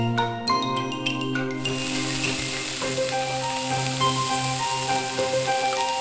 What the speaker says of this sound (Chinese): 然后用番薯粉、香炸粉裹浆油炸